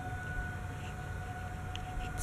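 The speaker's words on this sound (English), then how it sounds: "Tornado sirens going off." Tornado warning sirens under test wail as a faint, steady two-tone drone from a distance, with low rumbling background noise.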